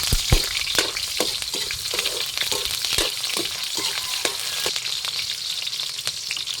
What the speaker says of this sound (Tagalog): Gisa tayo ng sibuya, ay bawang.